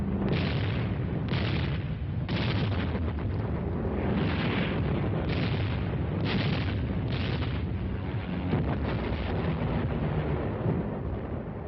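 Continuous heavy artillery barrage from the Korean War, a dense roar of overlapping booms and blasts with rhythmic louder surges, loud and unbroken for the whole stretch with no voices.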